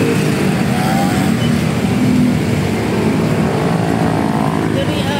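Busy highway traffic rushes past with cars and motorcycles, a loud continuous roar of engines and tyres close by, with a voice talking over it.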